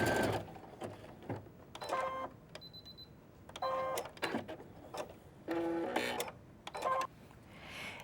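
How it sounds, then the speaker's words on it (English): Domestic sewing machine fitted with a straight-stitch foot sewing fabric panels, close and moderately loud in several short whirring runs of rapid stitching separated by quiet pauses and small clicks. "put them into the sewing machine, changing back to the foot to the straight sew foot, and we're going to sew this in place"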